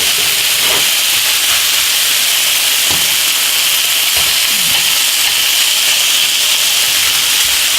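Pork browns in a hot pan with a loud, steady sizzle, a constant bright hiss running without a break and a few faint clinks underneath, no talk over it.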